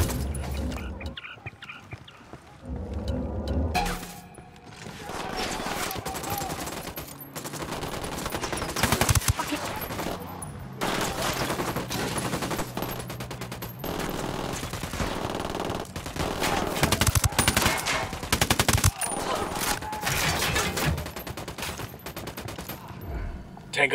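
Gunfire in the Ghost Recon Wildlands video game: repeated bursts of automatic fire and single shots crack loudly over a dense game soundtrack, with voices talking intermittently throughout.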